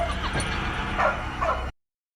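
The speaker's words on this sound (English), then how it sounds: "That was the Demogorgon's iconic growl that we hear every time we see or hear it" Demogorgon growl from the series Stranger Things, a continuous guttural creature snarl lasting under two seconds at fairly close range, rising slightly in the middle before cutting off abruptly into silence.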